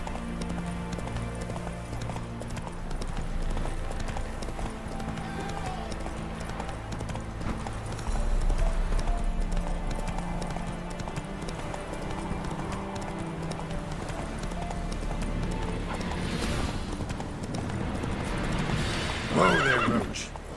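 Roach, a horse in The Witcher 3, trots with steady clip-clopping hooves and whinnies, set against a continuous bed of game music and ambience, with a louder neigh near the end.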